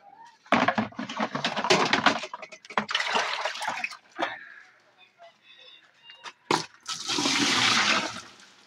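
Water is poured into a closed drain and gurgles away, in several splashing, rushing bursts separated by pauses, close and fairly quiet, with a few words spoken between.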